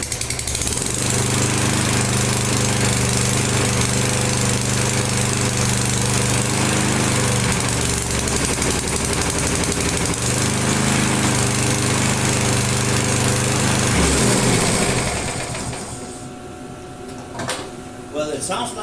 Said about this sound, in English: it sounds like we got a running engine now